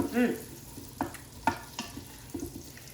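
Onion pieces frying in melted butter in an Instant Pot, a low steady sizzle broken by a few brief stirring knocks and scrapes, close but fairly quiet, with no talking.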